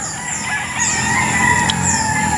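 Chickens on a large farm where young roosters about five months old are kept tethered, with several birds crowing and clucking together in a steady, dense chorus, some near and some farther off.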